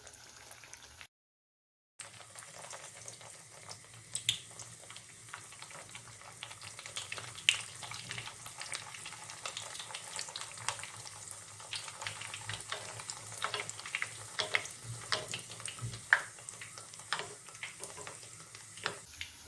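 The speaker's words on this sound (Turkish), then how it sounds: "Bakın bu şekilde tahta kaşığın sapını yağa dokundurduğum zaman kenarlarından böyle kabarcık çıkıyorsa yağ kızmıştır" Hot frying oil bubbles and sizzles around the handle of a wooden spoon dipped into the pan, a steady faint crackle of small pops with no talking.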